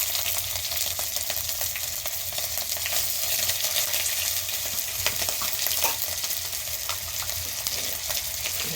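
Panch phoron five-spice tempering crackles and fizzes in hot oil for a lentil and vegetable dal, a loud, dense, unbroken sizzle with faint stirring sounds and no speech.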